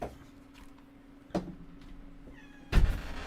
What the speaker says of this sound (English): going to start meowing because she wants to go in through the door